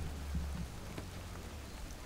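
Rain in the H1Z1 video game falls as a soft, steady hiss with faint scattered drops, quiet and constant with no voices.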